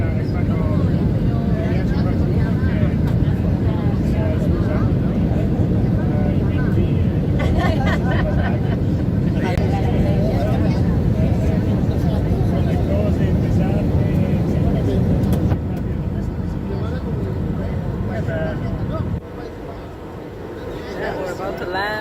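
Airplane cabin after landing in Bilbao in grey, wet, cold weather: a steady, loud low rumble of engines and airflow fills the whole stretch, easing slightly toward the end, with faint voices in the background.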